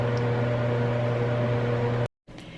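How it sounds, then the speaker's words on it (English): A microwave oven heating tortillas, running with a steady loud hum that cuts off abruptly near the end, followed by a faint click. "I like to microwave them for about 30 to 45 seconds"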